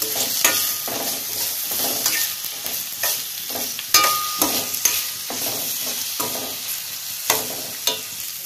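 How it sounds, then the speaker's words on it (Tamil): Onion, green chilli and curry leaves sauté in a pan, giving a steady sizzle broken by repeated scraping and clacking of a spatula stirring through, with no voices. "இது நல்லா வெங்காயம் நல்லா சாஃப்டா வர்ற அளவுக்கு வதக்கலாம்."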